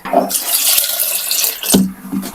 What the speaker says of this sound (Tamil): சாம்பாருக்கு தண்ணி ஊற்றிட்டு